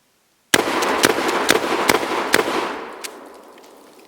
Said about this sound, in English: So that's one trigger pull, and I'm not going to pull the trigger again. I'm just going to work the action